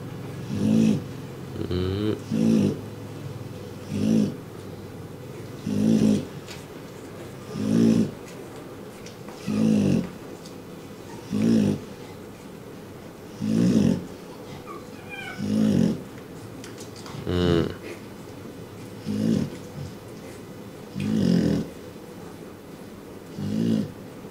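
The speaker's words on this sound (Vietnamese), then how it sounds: "ngủ ngáy rất đều" A sleeping Rottweiler puppy snores in a steady, regular rhythm, about a dozen evenly spaced breaths over close, continuous low background noise, with no talking.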